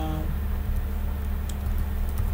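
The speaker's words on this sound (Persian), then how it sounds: "پسوردم هم رو تایپ میکنم" A password is typed on a computer keyboard during an Ubuntu desktop installation. Sparse, close key clicks sound over a steady background hum.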